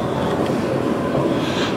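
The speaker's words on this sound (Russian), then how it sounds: "Последний серийный паровоз." Steam locomotive on a Moscow excursion run to Podmoskovnaya station, heard as a steady, loud low rumble of the moving train that fills the whole stretch with no breaks.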